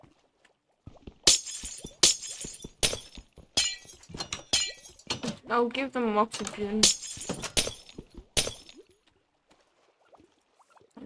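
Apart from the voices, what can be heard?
glass blocks breaking in Minecraft video game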